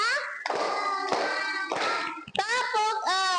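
Classroom of children clapping in rhythm during a counting clap game, brief hand claps mixed with loud chanted speech from the children.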